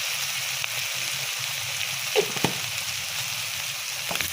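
Masala with coriander and red chili frying in oil in a pan, a steady close-up sizzle and crackle with a few brief louder pops.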